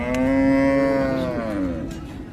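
One loud, drawn-out moo from a cow at a rural cattle market, starting strong and tapering off, followed by a quieter secondary low amid general market hubbub.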